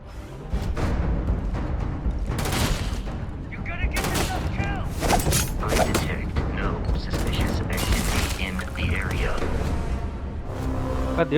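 Rapid gunfire from enemies in the space game Starfield, dense overlapping bursts of shots and booms packed close together for the whole stretch, loud and continuous with busy game effects and a voice mixed in.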